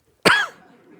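A single sharp cough from a person, close and loud, with a short breathy tail trailing off afterward.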